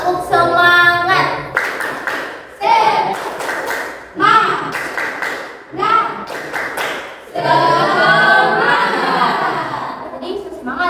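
A junior high school group in a Gorontalo counseling session claps a rhythmic spirit clap together, loud bursts of synchronized hand claps in patterned rounds separated by short pauses, with children's voices mixed in.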